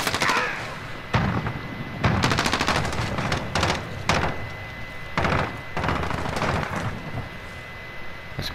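Bursts of automatic gunfire from Call of Duty Modern Warfare team deathmatch on the Crash map, loud repeated volleys separated by short pauses, with a steady electronic tone running beneath.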